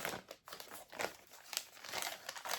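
A packaged craft-supply item from a December 1 advent calendar being opened, its wrapper crinkling and rustling in close, irregular bursts for a few seconds with no talk.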